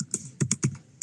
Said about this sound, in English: I'm typing in the chat box